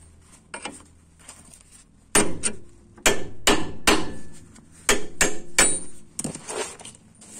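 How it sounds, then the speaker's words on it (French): Hammer blows on a chisel driven against a Renault Laguna 2 ball joint: about ten sharp, ringing metallic strikes, close and loud, in irregular bursts with brief pauses between. "je vais taper avec un burin ici, ici et ici pour arriver à le défaire complètement"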